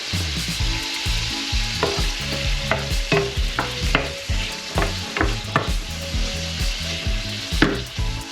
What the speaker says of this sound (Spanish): Sofreímos el choco con el rape.